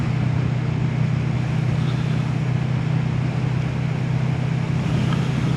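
A Vulcan motorcycle engine drones at a steady low pitch just after being dropped a gear, a constant rumble under heavy wind rush with no break or speech.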